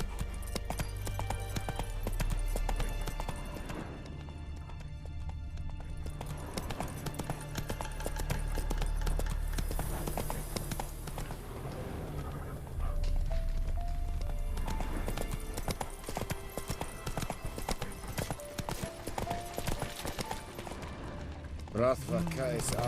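Horse hooves clip-clopping at a steady run in The Witcher 3, a continuous rhythmic trot under game music and ambient sound, with a brief voice urging the horse on.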